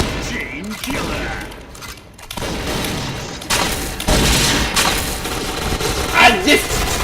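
Bursts of rapid gunfire and thuds come from a PointBlank first-person shooter match, loud and close, with a player's voice and other game effects mixed in.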